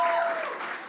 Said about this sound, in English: put your hands together one more time for the final year Bacat students